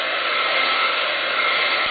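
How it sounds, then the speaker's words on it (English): A heat gun blows over freshly inked paper tape, giving a loud, steady, close rushing whoosh with no breaks and no voices. "If you really want to set it in, run your heat gun over it"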